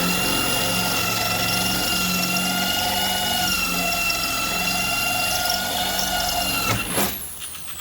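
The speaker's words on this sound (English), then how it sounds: "Just drill it in the center and see what happens." A power drill bores into the metal of a truck's window regulator, a steady, loud motor whine with a high ringing tone that holds for about seven seconds before winding down abruptly.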